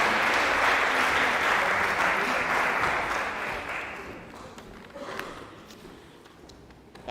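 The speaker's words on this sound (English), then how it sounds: "Let's welcome our guest, Edward Kieswetter, with a rousing round of applause" Audience applause at a community celebration event welcoming a guest, loud and sustained at first, then gradually thinning and fading over several seconds with a few lingering claps.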